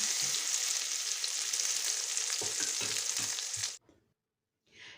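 Batter-coated parasol mushrooms deep-frying in oil make a loud, dense crackling sizzle with occasional bubbling pops that suddenly stops, followed by near silence and then a short burst of hiss.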